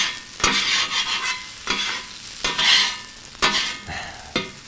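Fried rice with chili jam being stir-fried on a flat-top griddle: steady loud sizzling broken by five sharp scraping, tossing strokes of a spatula at a roughly even rhythm, close up and with no talking.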